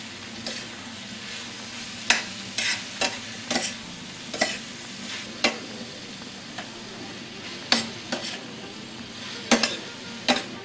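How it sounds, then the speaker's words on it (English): Onions and meat for a wild boar ragu sear and sizzle in a pan under a steady low frying hiss, with repeated sharp scrapes and clicks of stirring spaced irregularly throughout. "Okay, we have to sear the meat, we have to cook the onions."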